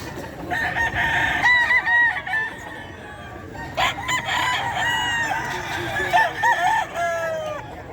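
A rooster crows loudly several times in succession at a pet market, long drawn-out calls close by, with clucking hens and faint background chatter.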